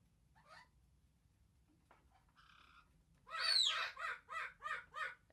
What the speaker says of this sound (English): I've got my crows over there.